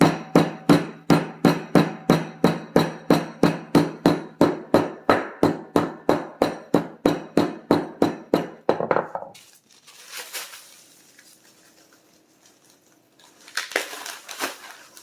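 Nilla wafers are smashed into small crumbs for a pie crust with about thirty sharp, evenly spaced pounding blows, close and loud, followed by softer rustling and crunching.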